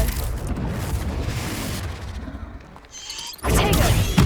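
Confringo blast spell going off in Hogwarts Legacy, a loud broad rumbling burst that fades, then a second sharp crackling explosion near the end, with game noise underneath.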